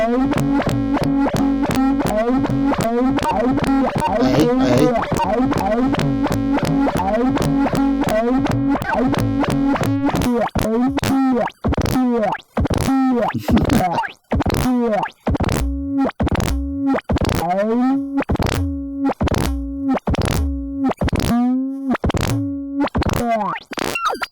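Music Thing Modular Workshop System patch from its analog section with cross-modulation, giving vocal, formant-filter-like tones: a dense, continuous synth texture that turns into loud, rhythmic repeated stabs with pitch sweeps in the second half.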